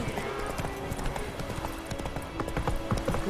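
Horse hooves clip-clop steadily in The Witcher 3, a brisk close rhythm of hoof strikes under a busy background with voices talking.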